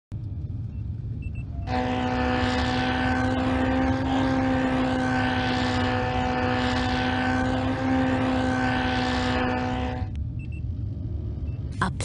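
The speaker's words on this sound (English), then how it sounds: "A plane." Airplane sound effect from the I SPY Fantasy CD-ROM game: a steady droning propeller-plane engine with a buzzing tonal hum holds evenly for about eight seconds, then cuts off abruptly.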